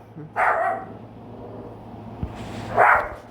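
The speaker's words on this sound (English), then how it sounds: "Sorry, my dog's barking." A pet dog barks indoors, two sharp barks about two seconds apart, fairly close and loud, with quiet room noise between.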